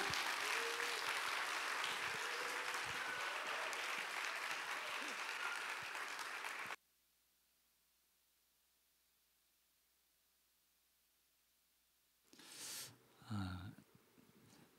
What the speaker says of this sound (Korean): 우리 먼 길 오신 목사님을 향해서 큰 박수로 한번 격려하고 맞이하겠습니다